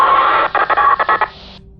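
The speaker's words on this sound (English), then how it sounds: "There is a sound of hissing as well as assorted beeps and whirring." A loud hiss of static cut by a rapid series of electronic beeps and stutters, ending abruptly into near silence.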